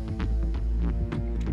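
Minecraft low-health heartbeat in a video game: a muffled, deep double-thump throbbing in a steady rhythm, loud and close under a low hum, with no speech.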